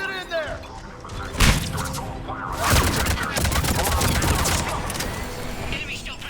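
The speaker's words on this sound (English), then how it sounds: "They're under fire." Mass Effect 3 firefight at a checkpoint, with loud bursts of rapid gunfire and impacts mixed into a dense combat soundscape as characters shout over it.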